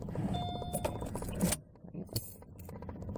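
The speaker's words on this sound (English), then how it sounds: "put the key in. Oh, maybe I'll turn it" A key is slid into the ignition of a 2013 Subaru Impreza and turned, producing close metallic jangling and clicks from the key ring, with a faint voice in the background.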